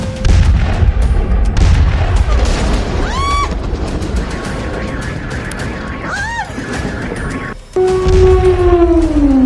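Bombing and artillery explosions during an air strike in Venezuela, with loud rolling booms and blasts, a wailing siren and whistling tones over a constant heavy rumble, with a voice speaking over the din.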